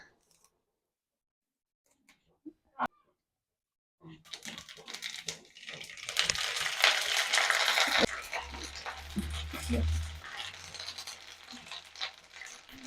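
Neem leaves drop into hot coconut oil after a few quiet clicks, setting off a loud, crackling sizzle that swells for several seconds and then settles into a lower steady fry.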